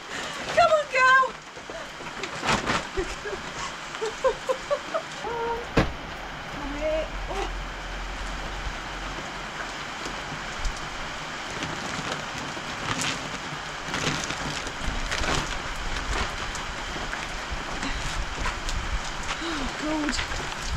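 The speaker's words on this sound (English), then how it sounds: "The rain came a little bit earlier than it was supposed to." Rain patters steadily on surfaces at a Portuguese mountain homestead in autumn, a continuous moderate wash of drops with voices calling out over it and bursts of movement nearby.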